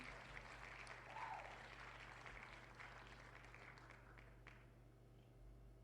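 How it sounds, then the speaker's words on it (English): Clapping sound effect from a livestream alert plays faintly and steadily through the whole stretch, sitting low over a constant background hum. "Oh, there's clapping"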